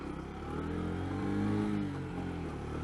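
A motorcycle with a low-RPM running problem drones steadily while being ridden, a constant mid-pitched engine hum with slight swells and no talking.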